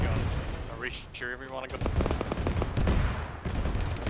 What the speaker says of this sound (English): Towards the explosion.